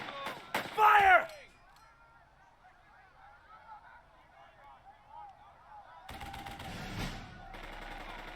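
Gunfire in the video game Burden of Command opens with a loud, sharp burst of shots, gives way to quieter battle sounds, then a second rough burst arrives near the end.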